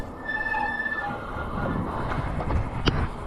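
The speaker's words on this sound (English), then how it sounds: "Now the brakes are a little noisy." The brakes of a Rattan Sequoia e-bike give a high, thin squeal over the hum of rolling wheels, then fade as a brief metallic screech and rattling follow near the end.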